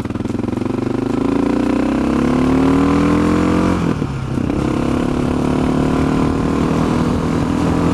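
A Honda XR650L single-cylinder motorcycle engine with its stock muffler runs close and loud, revving up in a rising drone, dipping briefly, then settling into a steady throbbing idle-to-cruise rumble with no talking.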